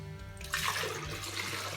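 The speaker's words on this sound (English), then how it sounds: "I'll put about a cup of water." Water is poured into a 6-cup blender container, a continuous close splashing gush lasting under two seconds with no voices.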